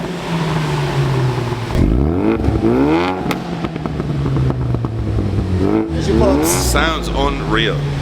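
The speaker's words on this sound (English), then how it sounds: "With the car sounding much spicier thanks to the X-Force exhaust" A Ford Mustang RTR with X-Force exhaust valves open blips its throttle several times, sharp rising revs with crackle between them over a rumbling idle, loud and close, while people talk over it.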